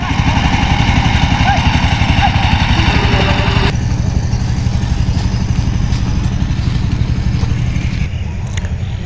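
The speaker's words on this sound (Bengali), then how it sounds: "ট্রাক্টর দিয়ে হাল বাইতেছে" A tractor ploughing a field chugs steadily near at hand, its engine a continuous low rumbling clatter throughout, with someone talking over it.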